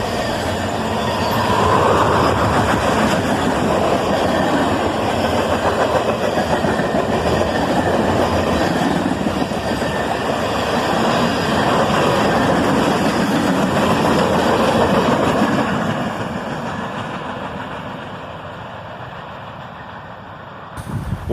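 A CSX freight train made up mostly of gondolas with a couple of auto racks rolls steadily past up close, a continuous loud rumble of wheels and rail clatter with some squeal, easing off slightly near the end.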